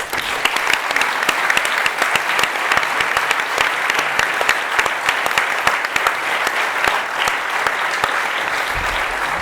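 Audience at a closing ceremony in Spain applauds for departed honorees, a loud sustained burst of many hands clapping with sharp individual claps standing out, steady throughout with a low thump near the end.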